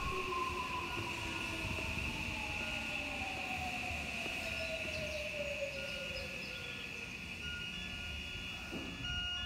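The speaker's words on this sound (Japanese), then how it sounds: "黒川駅に戻ってきたらちょうど列車が来ました" A train rumbles steadily with a sustained high squeal and a descending whine as it arrives at Kurokawa station on the Keio line.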